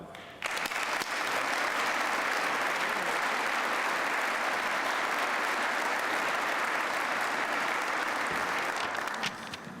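Sustained audience applause welcomes a guest speaker at a county address, a dense, steady clapping that starts abruptly and holds loud and even for nearly ten seconds before tapering at the end, with no talk over it.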